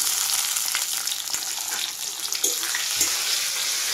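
Tomatoes hiss and sizzle in a hot pan with onions already fried brown, a steady close frying crackle with occasional stirring scrapes and no talk.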